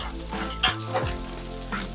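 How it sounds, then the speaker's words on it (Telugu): Mustard seeds and cumin sizzle in hot oil in a pan for tempering, a soft crackling fry with a brief stirring clatter partway through. "ఈ పోపు బాగా ఏగిపోవాలి"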